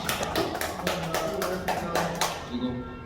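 A lecture audience gives a round of applause, a sustained patter of many hands clapping at moderate distance, with voices murmuring beneath.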